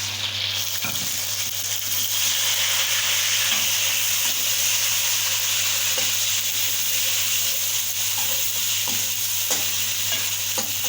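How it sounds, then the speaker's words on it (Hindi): Tomatoes added to a frying pan with onions for an egg and potato dish, a loud steady sizzle with occasional stirring scrapes, close and continuous with no voices. "अब टमाटर डालेंगे।"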